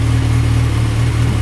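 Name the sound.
motorcycle engine with quickshifter ignition micro-cuts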